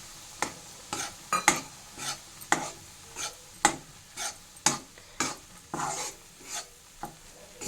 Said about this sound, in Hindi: बेसन को अच्छी तरह से हम भून लेते हैं।